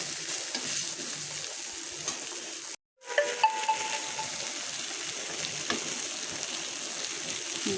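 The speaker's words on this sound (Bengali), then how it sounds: "বেগুনগুলো ভাজা অলমোস্ট শেষ" Eggplant slices fry in a pan, giving a steady close sizzle that cuts out briefly partway through, then carries on with a few faint clinks and scrapes.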